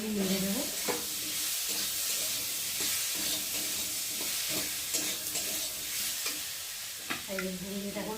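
Food frying in a pan at home for a tiffin meal, stirred with repeated scraping strokes over a constant loud sizzle, with a faint voice briefly heard among the stirring.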